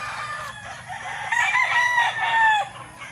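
A rooster crows near gamefowl breeding pens, one drawn-out crow rising and falling over a low farmyard background, fairly close and clear.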